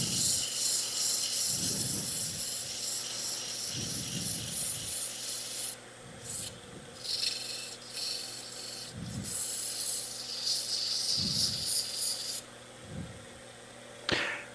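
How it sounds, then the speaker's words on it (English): Sanding a wooden Christmas ornament with 80 grit sandpaper, probably on a lathe at slow speed: steady rough rubbing hiss with rhythmic low swells as the paper moves back and forth, alone and fairly loud. "I'm not going to spend a lot of time sanding this"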